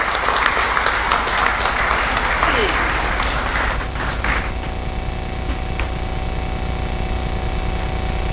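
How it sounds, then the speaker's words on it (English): Audience applause at an annual research meeting, steady clapping for about four seconds that thins into scattered claps over a low hum of room noise. "A round of applause as we welcome him."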